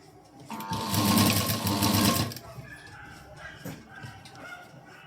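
Sewing machine stitching piping around a round neckline, running in a loud steady burst for about two seconds, then stopping, with soft handling noises and faint voice afterward.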